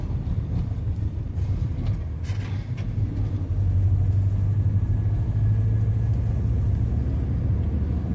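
Classic car engine cruising steadily in fourth gear on a winter drive, a continuous low droning rumble with steady road noise throughout, no talk.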